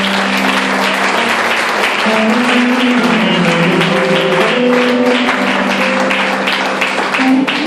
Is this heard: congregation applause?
yes